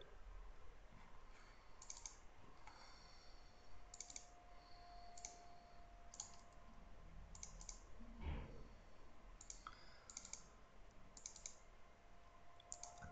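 Typing on a computer keyboard during map import software work, short faint bursts of key clicks spread across a quiet room.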